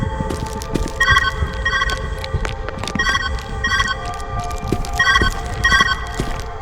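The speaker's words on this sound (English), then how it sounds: "Where's that ringing coming from?" Telephone ringing in the Viewfinder video game: repeated bursts of a trilling electronic bell, two rings at a time in steady pairs, heard over a busy ambient game background with no talk.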